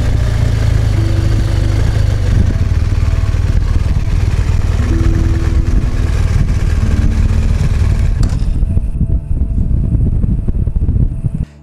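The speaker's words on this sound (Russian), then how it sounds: "РТ-шка по оффроду на самом-то деле довольно неплохо едет" Motorcycle ridden off-road near Vladivostok, a steady loud engine drone with shifting pitch and rumble throughout, close up, cutting out at the very end.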